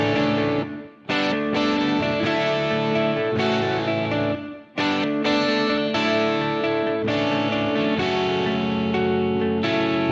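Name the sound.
electric guitars through shared reverb effect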